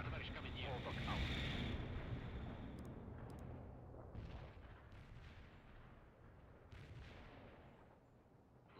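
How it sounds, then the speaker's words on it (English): Mortar barrage explosions in World in Conflict, a heavy rumbling blast wash that fades, followed by scattered distant booms under a radio-style voice. "Mortar barrage delivered."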